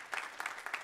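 A church congregation gives a brief, quiet round of clapping to welcome online viewers, with a few soft bursts of hand claps at some distance.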